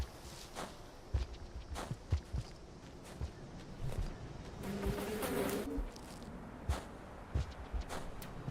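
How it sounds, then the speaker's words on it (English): Bees buzz faintly and continuously in the video game Rain World, with a low hum under scattered soft thumps and clicks from game movement. "Don't mind the bees."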